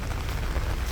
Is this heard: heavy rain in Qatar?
yes